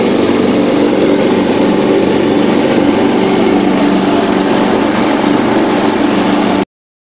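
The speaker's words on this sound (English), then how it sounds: "The mower deck's not even bogging down, and the motor's not working too hard either, so grass must not be that wet." A John Deere 210 riding lawn mower's engine drones loud and steady while mowing grass, a constant close hum with no change in pitch and no voices, cutting off abruptly near the end.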